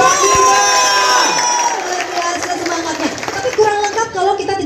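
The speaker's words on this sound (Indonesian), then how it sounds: "Tepuk tangan untuk UPG" A crowd cheers and claps for UPG 1945 at an outdoor event in its courtyard in Kupang, with shouts and whoops rising over the applause and a voice joining in.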